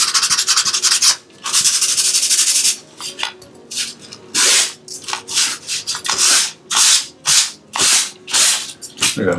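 Harsh scratchy sanding over a stiff painted canvas, long continuous rubs followed by shorter back-and-forth strokes with brief pauses, close and loud.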